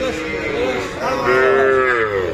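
Cattle moo loudly and close by at a cattle market, a long drawn-out low bellow that rises and wavers, with other animal and crowd noise in the background.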